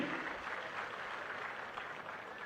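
Crowd clapping at a Gudivada public meeting, a dense continuous patter of many hands, fairly distant and steady with no pauses.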